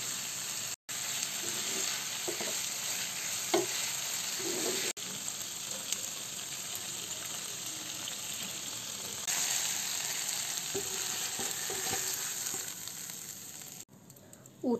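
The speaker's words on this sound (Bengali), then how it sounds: "এখন এটাকে একটু ভেজে নেব, হালকা করে এপাশ ওপাশ একটু ভেজে নেব।" Tengra fish frying in mustard oil, turned from side to side: a steady, close sizzle runs throughout with occasional soft stirring clinks and brief breaks.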